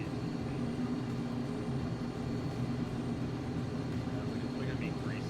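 An airplane landing in Microsoft Flight Simulator, a steady low engine drone and airflow hum running throughout, with faint talk underneath.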